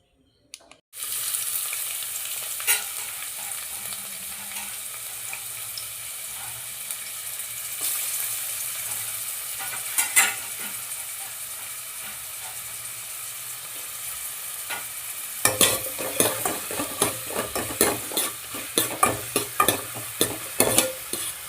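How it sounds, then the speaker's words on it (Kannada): Half an onion frying in a little oil for a prawn sambar, a steady close sizzle with intermittent stirring and scraping clatter growing busier toward the end. "ಆಮೇಲೆ ಅರ್ಧ ಈರುಳ್ಳಿನ ಸ್ವಲ್ಪ ಎಣ್ಣೆ ಹಾಕಿ ಫ್ರೈ ಮಾಡ್ಕೋಬೇಕು"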